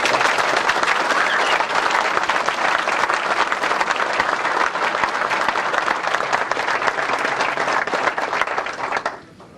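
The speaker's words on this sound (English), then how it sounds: "Would you all please give them a round of applause?" Loud, sustained audience applause at a military school graduation ceremony, a dense crowd clapping continuously for about nine seconds before cutting off.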